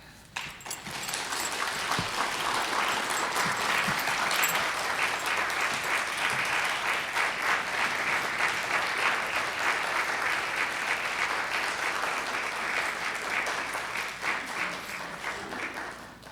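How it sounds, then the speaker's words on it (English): An audience bursts into sustained, dense applause after a speech, the clapping swelling quickly and holding steady for about fourteen seconds before tapering off near the end. "Let's give one more round of applause to Lisa for sharing her story"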